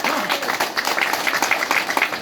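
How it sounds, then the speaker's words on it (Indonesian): An audience bursts into applause at a religious talk, a short, dense patter of many hands clapping at moderate loudness with no voices over it. "Tepuk tangan."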